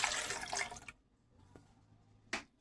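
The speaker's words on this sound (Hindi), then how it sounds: "अभी हम इसको ठंडे पानी से अच्छी तरह से धो लेंगे।" Strawberries washed under cold running water from a tap while a smoothie is made: a steady hiss of flowing water that stops abruptly, then a brief splash near the end.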